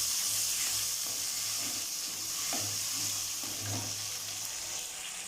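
Curry leaves frying in hot oil in a pan for Pondicherry fish curry, a steady loud sizzle with light stirring scrapes and a low hum underneath.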